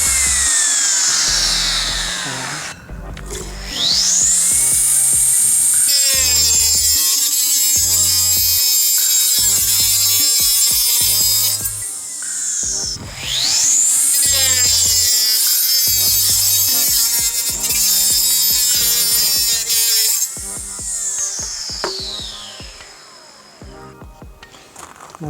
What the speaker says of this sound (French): Donc coupe avec la Bosch.